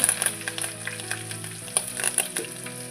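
Green chillies and curry leaves crackle and sizzle in hot oil, with rapid pops and spits and a soft stirring clatter, close by and with no speech.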